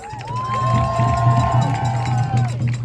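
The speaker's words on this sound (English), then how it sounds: "let's give them a round of applause, please" A rally crowd of immigrant-rights supporters in New York's Foley Square cheers, with a long rising whoop standing out above a steady mix of voices and a low hum.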